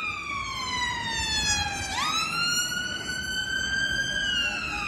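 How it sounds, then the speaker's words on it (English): An ambulance siren sweeps past along the seafront promenade at Blackpool, loud and continuous with rising and falling wails and a clear pitch drop as it passes, over steady street noise. "Hang on, let's see whether I'm right. Is it an ambulance?"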